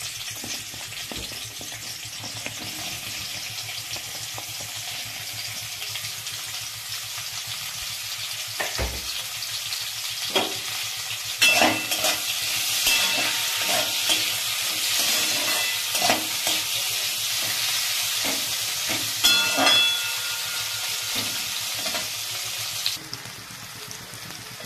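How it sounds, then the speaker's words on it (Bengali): Sliced onion and capsicum stir-fried in a little oil in a wok, a continuous sizzle broken by repeated spatula scrapes and clatters, louder in the middle stretch. "এখানে আমি পেঁয়াজ আর ক্যাপসিকামটা একটু হালকা করে ভেজে নেব, বেশি তেল লাগবে না।"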